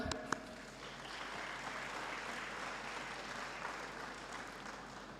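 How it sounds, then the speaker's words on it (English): An audience at a research awards ceremony claps for an honoured team, giving a soft, continuous patter of applause that holds for the full few seconds, heard from some distance with no talking. "You can applaud them."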